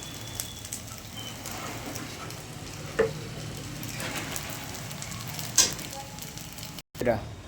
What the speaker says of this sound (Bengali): এই বাদাম তেল দিয়ে ভাজা হয়।